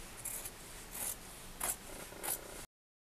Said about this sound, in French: Donc là je démarre à couper tout le tour du patron.